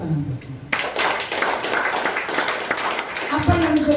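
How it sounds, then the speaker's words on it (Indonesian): A church congregation at a Pentecostal revival service claps hands together in a dense, sustained burst that starts abruptly and continues to the end. "Beri tepuk tangan buat Tuhan."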